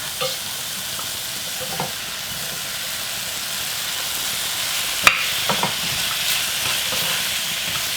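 Pork and kimchi sizzle and crackle in a hot pot, a steady frying hiss with occasional louder spatters and stirring scrapes, no voices.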